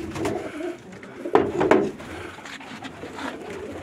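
Pigeons cooing at close range in a loft, with two louder throaty coos standing out midway over a steady murmur of softer calls.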